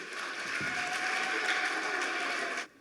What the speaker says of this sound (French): Ça s'applaudit, chère population